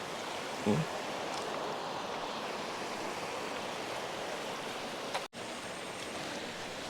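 Strong current of a river in a park in San Quintin, Pangasinan rushes steadily as a broad, even roar of flowing water, with a brief knock near the start and a short dropout toward the end.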